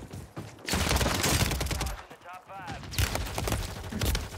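Bursts of gunfire from the video game Warzone 3 come in dense, loud volleys. A voice is mixed in, and a short electronic tone sounds in the middle.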